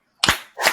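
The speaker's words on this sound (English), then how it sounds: "Can I get a 2 claps?" Two sharp claps from a live audience, a loud crisp first clap then a second about 0.4 seconds later, close and clear with no talking.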